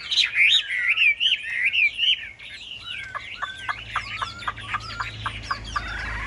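A Chinese hwamei songbird, a tame-raised bird with a fanned tail, sings loud, close, varied whistling phrases that shift into a rapid series of sharp, repeated chirping notes.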